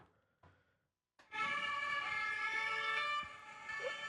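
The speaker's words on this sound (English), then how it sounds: "I've never heard that many sirens." After a brief near-silence, a loud wailing police siren suddenly starts up and holds, accompanied by a dense Paris street din.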